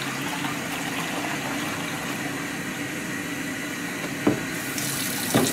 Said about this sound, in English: Stop bath, same as developer, can go right down the sink with lots of water to follow it.